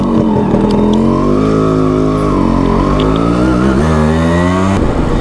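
A Yamaha RX100 motorcycle engine revs loudly and continuously up close, its pitch rising and falling through several throttle blips.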